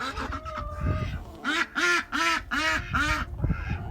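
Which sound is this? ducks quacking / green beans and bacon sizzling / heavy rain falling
ducks quacking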